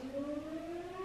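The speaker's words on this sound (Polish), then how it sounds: "syrena, co się stało" Civil defense siren at a fire station across the street wails steadily, a sustained rising tone heard at moderate distance with no talk over it.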